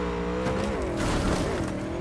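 A car in Cyberpunk 2077 revs and pops a wheelie, its engine note rising and falling in a steady close drone with a faint tire squeal, under game ambience.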